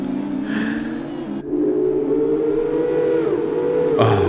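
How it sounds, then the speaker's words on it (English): F2 racing cars in a video game roar through the Monaco tunnel, a loud, sustained engine whine that holds its pitch and swells as more cars pass, with brief sharp gear-shift changes. "these cars sound so good in that tunnel"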